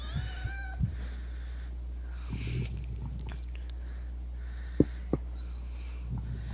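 A foster kitten gives a few faint, high mews near the start, then falls quiet apart from soft shuffling and a couple of sharp knocks under a steady low hum.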